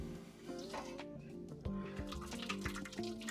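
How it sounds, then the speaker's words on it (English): Boiling water from a kettle pours into an oven tray with a steady splashing trickle lasting a few seconds, close and moderately loud with no talk over it. "add my boiling water in."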